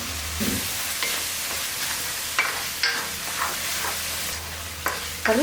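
Small onions are sautéed with ground tomato paste and salt for a spicy tamarind kuzhambu, heard as a constant sizzle broken by repeated spatula scrapes and stirs against the pan, close up, no talking.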